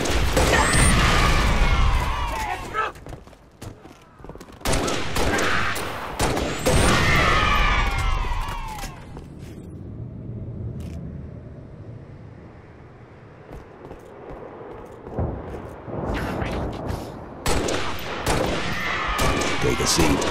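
A frag grenade blast and bursts of gunfire from Halo: Reach, loud and close, with a booming explosion partway through and rapid shots before and after, mixed with a player talking.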